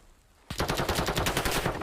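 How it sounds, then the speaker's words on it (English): Rapid automatic gunfire rattles out in a Call of Duty esports match, a sudden loud burst of repeated shots after a quiet half second, continuing in a fast, steady volley. "A lot of gunfire rattling out towards those archways."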